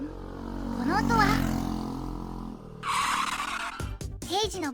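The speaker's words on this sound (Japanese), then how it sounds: "平次のバイク" Motorcycle sound effect for Heiji's bike card in the Detective Conan trading card game: a loud engine roar with a tire-screech skid bursting in partway, mixed with a voice over sustained engine noise.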